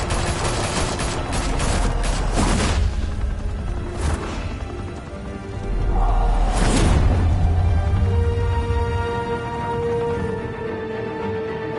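Gunfire in a GTA game on PS2 rattles out in several loud bursts, sharp cracks spaced a second or two apart over a steady rumble of background game noise.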